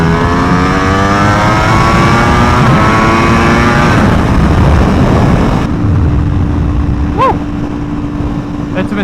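A loud 1000cc V4R motorcycle engine revs and holds a strong, rising drone, then drops to a steadier idle-like tone with a brief whine near the end.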